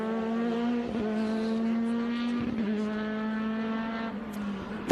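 Race cars howl through Mission Foods turn 5 at Road America, Elkhart Lake, during a Speed Tour race, one steady high-revving engine note dominating and close, with brief downshift blips around the corner.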